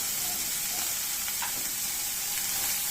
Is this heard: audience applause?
no